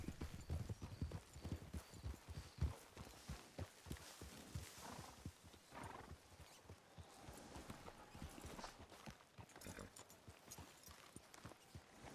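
Horse hooves clip-clop in a fast, continuous rhythm within a video game, loud and close, with faint animal snorts and whinny-like sounds mixed in and no talk.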